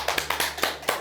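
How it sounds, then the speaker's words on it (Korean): A studio audience claps briefly, with a handful of quick, evenly spaced claps close by in a short burst. "처음 박수 보내드립니다."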